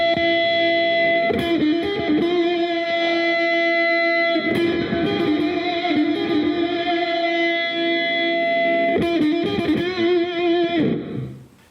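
An electric guitar plays through a Korg AX3000G multi-effects pedal with the reverb turned all the way up, giving sustained, heavily washed chords and notes that ring on loudly before fading at the end.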